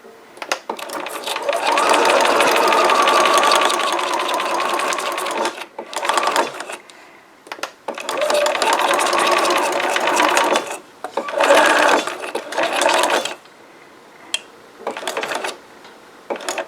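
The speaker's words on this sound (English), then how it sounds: "I like to sew backwards just a little bit and then come back forward again" Sewing machine stitching fabric in rapid bursts, running forward, stopping briefly, reversing a little and running forward again, with short pauses between runs.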